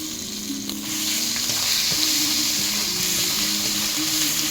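Onion paste spiced with green chilli and chilli powder fries in a pan for a seeded-banana chhechki, giving a loud, steady close-up sizzle that swells after a stir, with faint low clinks and no talking.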